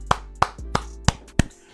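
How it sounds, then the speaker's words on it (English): Five sharp, widely spaced hand claps, each a distinct crack with a gap between, close and fairly loud, ending on a sixth clap at the cut; no talking. "Round of applause, man."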